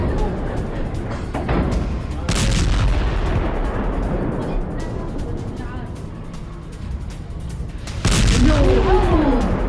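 Missile strike explosions hit buildings in an air strike, heavy booming blasts and rumbling impacts that swell and recede over a busy, noisy background, with a loud burst near the start and another near the end.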